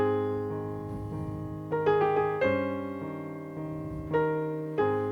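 Piano melody played with a full, rich tone, sustained chords under a singing right-hand line, sounding close and fairly soft.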